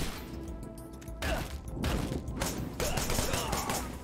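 Gunfire from the action game Wanted: Dead: a dense volley of rapid shots and heavy impacts, loud and near, with bursts that swell and fade over a few seconds.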